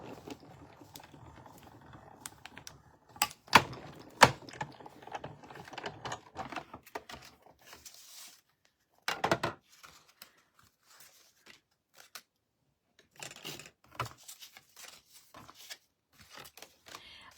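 Paper card panels being cut for a floating-panel card, close and fairly quiet: scattered crisp snips and small taps in uneven bursts, with near-silent pauses between them and no talk.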